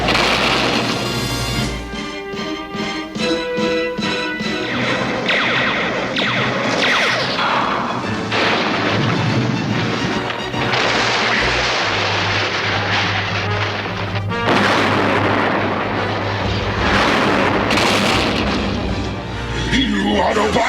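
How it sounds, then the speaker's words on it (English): In a Transformers cartoon, a tower is smashed apart by the giant robot Devastator, a long loud stretch of crashing, booming impacts and whooshes mixed with a voice-over and music. "Causing a diversion, Smokescreen tricks Devastator into destroying the tower"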